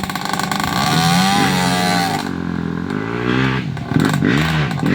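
Small motorcycle engine running hard during an off-road ride, a loud buzzing drone that rises and falls in pitch as the throttle opens and eases off, with rattling clatter over rough ground.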